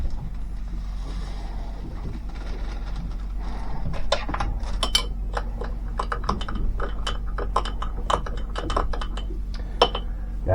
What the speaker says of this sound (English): we're just going to dump this in and stir it up a little bit